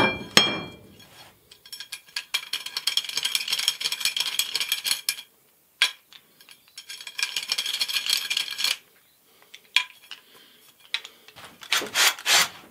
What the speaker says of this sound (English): I like to use this little honing stone when I'm done and, you know, just make sure I brush the burrs away